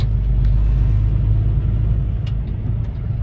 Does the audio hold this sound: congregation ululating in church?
no